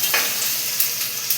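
Two onions fry in a pan for tomato biryani, a short burst of bright crackling sizzle with a few soft stirring scrapes on top and no talk.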